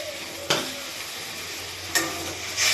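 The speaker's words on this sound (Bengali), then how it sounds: "তো এখন আমি ভালোভাবে বেশ কিছুক্ষণ সময় ধরে কষিয়ে নেব।" Spice paste, made from ground spices soaked in water and mixed with slit green chillies, sizzles steadily in a hot pan. A few short scraping stirs cut through at intervals, close up and with no talk.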